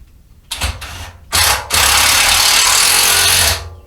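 Power drill driving a screw into wood clamped in place through a pilot hole: two short bursts of whirring, then a loud, steady drive of about two seconds that cuts off abruptly, close up with no talking.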